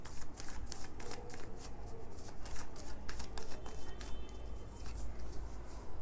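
Tarot cards are shuffled by hand in rapid riffling bursts, a dense papery flutter that repeats close and crisp for several seconds with no voice over it.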